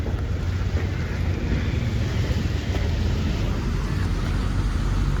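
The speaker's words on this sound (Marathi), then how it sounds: "दुपारी भरतीनंतर पूर्ण फोर्समध्ये पाणी जमा झालं फोर्समध्ये पाणी घुसतं" Floodwater rushes in at high tide near a bridge in Panvel Koliwada, a loud, continuous broadband roar of surging water mixed with heavy wind buffeting on the microphone, unbroken throughout and without voices.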